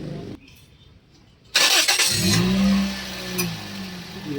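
A second-hand Toyota Vios engine cranks with a short burst, catches and settles into a close, steady idle, with a faint sharp click shortly after.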